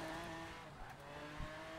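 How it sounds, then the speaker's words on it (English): An AMC Gremlin X fitted with custom exhaust pipes, driven in Forza Horizon, holds a steady, faint engine drone with a tonal exhaust hum and a brief bump near the end, with no talking. "I have on this car an amazing sound. I put custom exhaust pipes."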